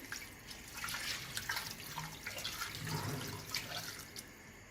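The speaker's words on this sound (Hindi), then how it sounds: "और मैं एक पतीली में इसमें भर के मैं पानी डाल दूंगी।" Water is poured into a cooking pot holding washed beef trotters for paya, a continuous splashing and gurgling stream at moderate level, close by.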